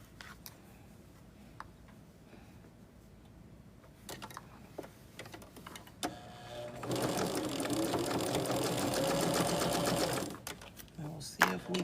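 Indoors at a quilting project, a sewing machine winds bobbins. A sustained mechanical whir starts partway through and runs loud for several seconds, after scattered clicks and handling taps, then stops with more small knocks.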